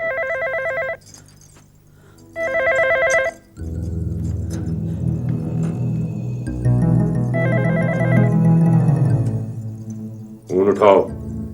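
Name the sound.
telephone ringing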